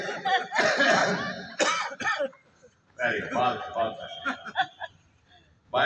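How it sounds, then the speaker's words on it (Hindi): Group of people at a yoga camp coughing loudly on purpose as part of a laughter exercise: bursts of overlapping forced coughs and chuckles come in waves, separated by brief pauses. "खांसे जोर से।"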